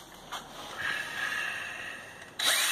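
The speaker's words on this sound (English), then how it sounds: "So let's drill this out." A power drill whines as it bores through metal chassis tubing on a Pontiac GTO, rising and holding, then a louder burst of grinding at the end.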